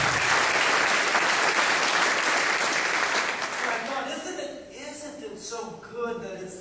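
Audience applause at a Tea Party rally in Baton Rouge, a loud dense clapping that fills the first half and then thins out, with scattered chuckles and voices under the tail end.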